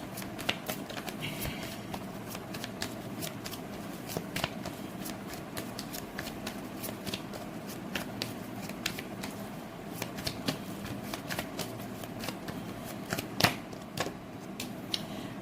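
Tarot cards are shuffled continuously, giving a steady run of soft papery riffles and flicks with sharper snaps scattered throughout, close and fairly quiet with no talking.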